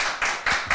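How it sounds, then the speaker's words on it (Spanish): A few sharp, evenly spaced claps ring out in quick rhythm at a live music performance, three loud bursts in under a second. "Un aplauso para ellos, duro, duro."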